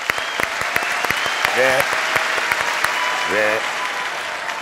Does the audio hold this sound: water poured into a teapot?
no